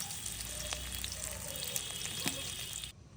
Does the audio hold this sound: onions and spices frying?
yes